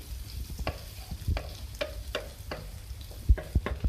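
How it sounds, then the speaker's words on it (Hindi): Chopped onions fry in oil in a pan, a close sizzle broken by repeated scraping strokes and knocks of a spoon stirring at an uneven pace. "मैंने पैन में ऑयल डाला है, इसमें डाल रही हूँ मैं प्याज।"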